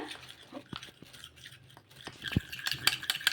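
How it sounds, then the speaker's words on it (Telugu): A spoon works maida flour into oil in a bowl, giving soft, uneven scraping and clicking strokes that grow busier and louder toward the end, heard up close. "ఒకసారి బాగా కలిపేసుకుందాము ఈ నూనెలో పిండి కలిసేలాగా"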